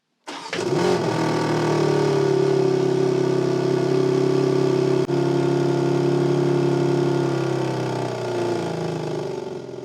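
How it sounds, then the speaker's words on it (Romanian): A BMW M3 Touring engine cold start: it cranks and fires, then settles into a loud, high idle that hums steadily before dropping slightly toward the end. "Hai să vedem cum se aude un cold start."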